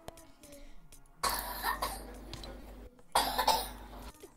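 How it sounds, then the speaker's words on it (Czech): A brother coughs in two loud, harsh bursts, close to the mic, with quieter stretches and faint game sounds between them. "Brácha kašle"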